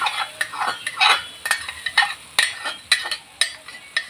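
Tamarind juice being stir-fried in a pan, a spatula scraping and clinking against the metal in a steady rhythm of quick close strokes, with a soft sizzle underneath.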